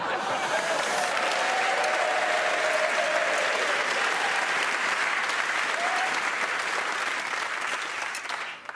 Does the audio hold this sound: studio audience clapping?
yes